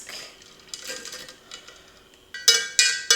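A drink being whisked in a cup gives light, quiet scraping and tapping, then three loud, bright clinks near the end.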